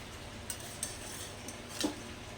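Ash gourd curry with turmeric and salt is stirred in a pan, with quiet scraping and a few light clinks of a spoon against the vessel over a faint, steady background hiss.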